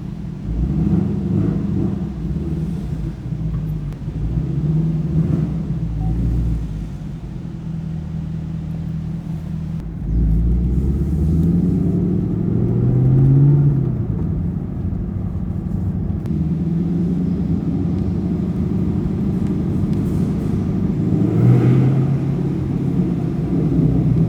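A manual Chevrolet Camaro ZL1 1LE rumbling deep and steady, its engine swelling as it pulls away, loud and close with no voices over it.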